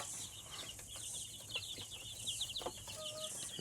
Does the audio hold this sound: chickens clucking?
yes